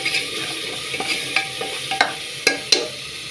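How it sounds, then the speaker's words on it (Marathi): Ground masala of coriander powder, red chili powder and salt fries in a pan for a crab dish. A soft continuous sizzle runs under repeated scraping stirs of a spoon, close and fairly clear. "हा मसाला मी छान परतून घेते."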